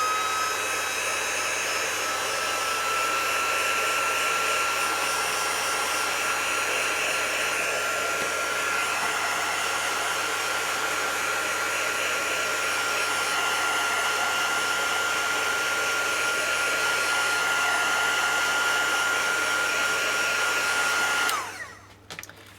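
A heat tool blows steadily for about 21 seconds to dry wet stamping ink, a loud, even whoosh that cuts off abruptly near the end.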